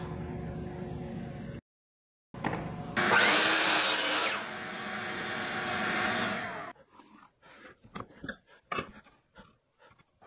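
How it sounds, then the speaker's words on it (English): A power saw cross cuts plywood into support pieces for a shelf, a loud sustained cutting burst in a workshop followed by a quieter run and scattered handling knocks and clatter near the end. "I cross cut a couple pieces for supports from the back to the shelf itself"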